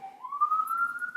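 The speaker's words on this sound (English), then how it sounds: "There's a siren." A siren wails in the background, one steady rising tone gliding slowly upward and holding at moderate loudness for just over a second, with no voices over it.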